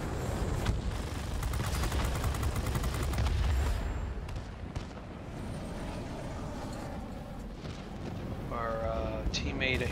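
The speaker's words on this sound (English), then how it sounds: "that thing has a powerful cannon. Hear that?" Rapid bursts of aircraft cannon fire from a Tier IX American McDonnell XF-85 Goblin jet fighter in World of Warplanes, dense and continuous over engine roar and battle noise, with a rattling volley early on and talk over the action.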